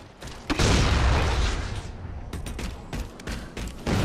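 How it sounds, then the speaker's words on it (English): A grenade blast in the Halo 4 Infinity Slayer shooter game, a heavy booming burst followed by rumbling decay, then scattered sharp gunfire cracks, loud and close. "Nice grenade there, buddy."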